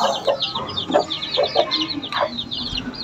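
A hen and chicks clucking in short bursts, several soft calls spaced through a few seconds over faint farmyard background noise.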